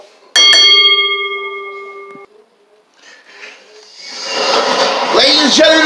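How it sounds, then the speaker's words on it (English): A wrestling ring bell clangs several times in quick succession at a live match, its ringing tone sustaining loudly before fading, followed by a rising cheering crowd and commentator speech. "Ring the bell."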